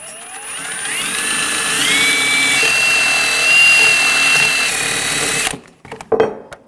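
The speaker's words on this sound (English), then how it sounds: "Now I'm going to take a wire brush. We're going to clean up the caliper bracket" A power drill-driven wire brush whirs steadily against a 2001-2009 Volvo S60 rear brake caliper bracket, a loud, rising whine with gritty scraping that runs for several seconds, then cuts off into a few clanks and handling knocks.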